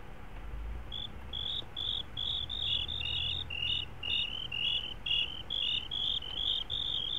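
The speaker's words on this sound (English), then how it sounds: "What was that? Crickets." Crickets in the video game Minecraft chirp in rapid, regular bursts, a steady high trill repeating throughout over a soft low background, with no talk.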